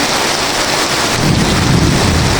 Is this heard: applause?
no